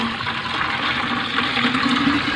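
Water pours steadily onto potted plants in a small home garden in Saudi Arabia, a continuous splashing rush with no talking.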